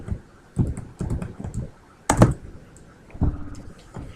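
Keys clack on a computer keyboard as personal information is typed into a form, irregular clusters of close, crisp taps with one louder strike midway and short pauses between bursts, no voices.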